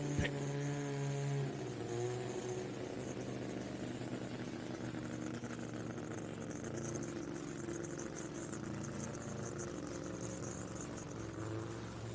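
A 1991 Mazda RX-7 drag racing car at a World Cup Finals test session idles and revs with a steady, buzzing engine drone. A brief higher tone comes at the start, and a crowd murmurs faintly underneath.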